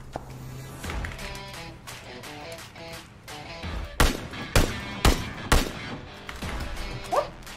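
Gunfire in a shooting video game: a string of sharp, loud shots, several bunched in the second half, over a steady backdrop of game music and effects, with no talk.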